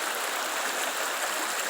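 Creek water flows over a rocky shoreline on a rural property, a steady close rushing hiss with no pauses and no voices.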